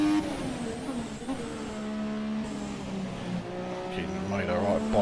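A turbocharged Formula One car races in the F1 2017 game. Its engine gives a moderately loud, buzzing harmonic whine whose pitch shifts and climbs as it revs.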